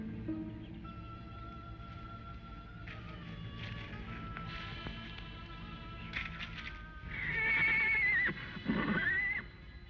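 Horses neigh and whinny in an old Western setting, with low snorts and shuffling early on, then a loud, shrill whinny rising and falling near the end.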